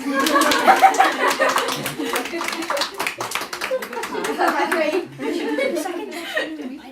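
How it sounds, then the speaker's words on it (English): An audience claps at a junior cooking competition, a lively burst of hand claps mixed with chuckles and murmured voices, loudest at the start and continuing unevenly before tapering near the end. "Do we clap? Of course."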